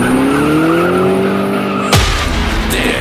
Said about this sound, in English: when you hear an engine rev, if the hair on the back of your neck stands up when you hear tires squeal